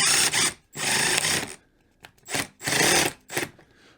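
An impact driver bores a pilot hole and then sinks a screw into wood, loud bursts of high-revving whine separated by brief pauses, with the hammering clatter of the impact mechanism in the later bursts.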